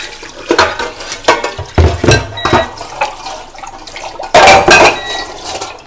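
Water is poured over a cooking pan and utensils to soak them after making banana pancakes in a home kitchen, heard as loud splashing gushes mixed with clanks of metal cookware, alone with no talk.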